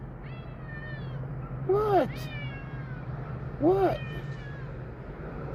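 A cat gives two clear, plaintive meows a couple of seconds apart, close by over a steady low hum. Someone speaks briefly nearby.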